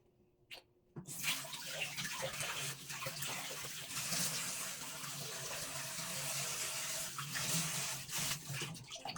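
Tap water runs steadily into a sink for washing the face before bed, a close, continuous gushing splash that starts abruptly after a brief knock and keeps an even level throughout, no voices.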